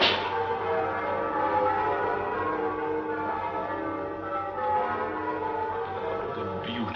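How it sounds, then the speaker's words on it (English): Church bells ring on a Christmas morning in a 1951 black-and-white film, a layered, sustained peal that carries at moderate distance and fades slightly, without voices. "Bells."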